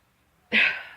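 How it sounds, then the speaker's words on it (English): A single sharp sneeze bursts out after a moment of quiet, close and loud, then trails off quickly. "I'm gonna sneeze."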